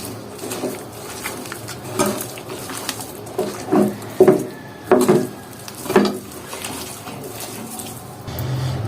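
Meat and spices being mixed together by hand for kala bhuna, with wet squelching and slapping pats coming in irregular bursts, close and moderately loud.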